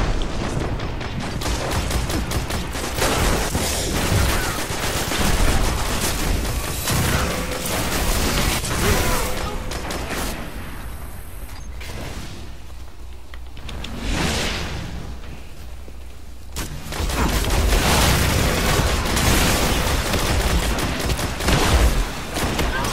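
Suros auto rifle gunfire in Destiny: dense, continuous automatic shooting with booms and whooshes of game combat, loud throughout with a brief lull midway before the firing resumes.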